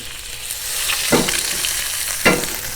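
Butter sizzles loudly in a cast iron pan with steak and garlic, a dense steady hiss broken by two brief louder spatters or stirs.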